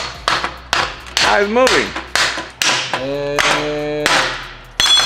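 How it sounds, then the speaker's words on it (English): Sharp metal hammer blows knocking a part off a 2016 BMW F80 M3 suspension, several loud taps in an irregular series with ringing overtones, mixed with people talking nearby. "Now we gotta hammer this thing off."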